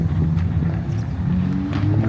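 Loud, rumbling race car engines drone close by, with overlapping low revs from several cars moving out onto a track together.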